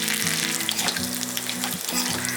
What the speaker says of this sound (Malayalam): പച്ചമുളക് ഒന്ന് മൊരിഞ്ഞ് വരട്ടെ.